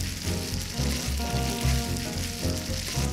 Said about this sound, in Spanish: En una sartén a fuego medio añadimos un poco del pesto, el espagueti y un poco de aceite de oliva